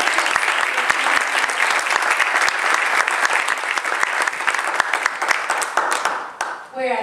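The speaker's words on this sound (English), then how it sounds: "I think that deserves a round of applause." A crowd applauds steadily with dense, loud clapping for several seconds before it fades out.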